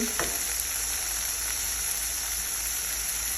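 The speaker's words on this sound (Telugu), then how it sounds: "కొంచెం ముందు నానబెట్టుకున్న శనగపప్పు వేస్తున్నాను" Soaked chana dal hits a hot pan with turmeric and green chillies, setting off a loud, dense, continuous sizzle that holds steady throughout after a brief initial clatter.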